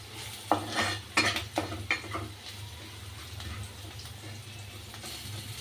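Garlic frying in oil in a pan while being stirred, with several sharp scrapes and clinks of the spatula in the first two seconds over a steady low sizzle that continues alone.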